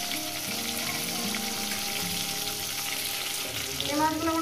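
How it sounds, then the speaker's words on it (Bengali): Bata fish sizzle steadily in hot oil in a pan, a dense, even crackle filling the whole stretch at close range, with a brief louder flare near the end. "এই মাছগুলো আমার ভাজা হয়ে গেছে বন্ধুরা।"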